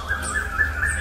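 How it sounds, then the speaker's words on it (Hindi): A pigeon's call repeats in quick, warbling pulses, close and fairly loud, with no talking. "कबूतर की आवाज सुन के चीनू चिड़िया और तोता भी आ जाते हैं।"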